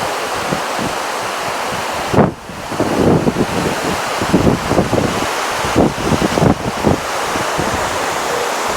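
Water pours down at the Vasudhara waterfall as a steady, loud broadband roar, mixed with gusty wind buffeting the microphone and a few brief thumps; no one speaks.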